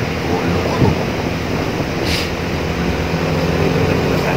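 Strong wind roars steadily, buffeting close up with a rumbling, gusty rush that continues throughout, on the Marilaque highway.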